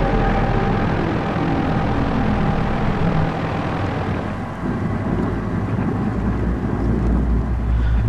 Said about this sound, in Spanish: Mientras tanto, 5 aparatos Savoia S-79 Sparviero se aproximan procedentes de las Baleares.